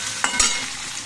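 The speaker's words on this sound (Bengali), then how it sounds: "পেঁয়াজটা লাল লাল দেখছো ভাজা হয়ে গেছে" Onions fry in a pan with a bright, steady sizzle. A couple of quick stirring scrapes break in during the brief moment.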